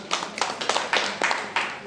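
Two people clapping their hands, about six to seven sharp claps in an uneven rhythm, close and fairly loud over a brief stretch.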